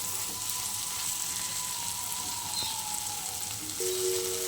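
Egg bhujia, scrambled eggs, fries in a pan with a steady, even sizzle, while faint music from a nearby Ganesh puja carries in the background.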